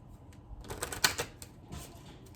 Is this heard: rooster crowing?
no